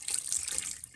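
Water squeezes out of a makeup-soaked beauty blender sponge over a sink, making a soft, steady hissing splatter for about a second at close range.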